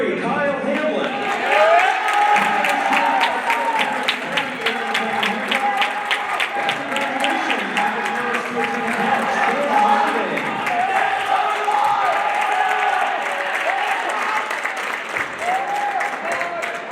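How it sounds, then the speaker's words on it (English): Fans in a high school gym applaud and cheer a senior basketball player on Senior Day, dense clapping with whoops and shouts running throughout, while an announcer's voice talks over the crowd. "let's hear another round of applause for Kyle Hamlin"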